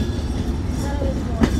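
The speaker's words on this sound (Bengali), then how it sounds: "আন্তনগর Rupsa express departure by Chuadanga railway station" The Rupsha Express intercity train pulls out of Chuadanga railway station, a loud steady rumble of rolling carriages with a brief sharp metallic squeal near the end.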